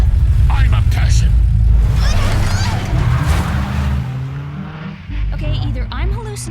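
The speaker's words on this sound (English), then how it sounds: "that gorilla just drove off in a car with Alex" An animated car driven off by a gorilla, tires screeching and skidding as the engine revs away, loud and close, with voices and a music score mixed in.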